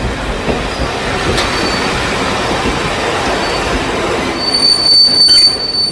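A passenger train in a rainy radio drama scene rumbles along steadily at close range, with wheels squealing sharply toward the end.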